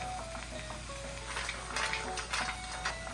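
Mussels and fennel sizzle and crackle in a hot pan, a steady close frying hiss with brief stirring bursts and clinks, no voices over it.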